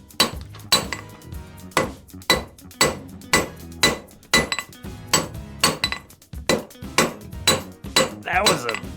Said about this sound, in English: That was a bad hammer blow.